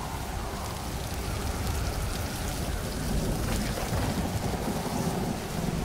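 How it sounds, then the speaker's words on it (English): Steady, loud rain pours down with rumbling thunder rolling underneath in the survival video game Stranded Deep, a dense, continuous wash of storm noise with no talking. "I think it's actually gonna rain this time."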